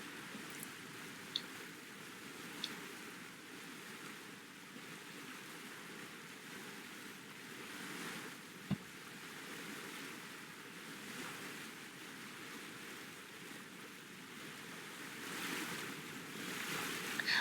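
A sailboat glides over ocean waves in the Sailaway sailing sim, a steady, soft wash of water and wind that holds even throughout, with a few faint clicks and a slight swell near the end.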